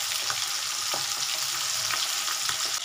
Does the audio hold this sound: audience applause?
no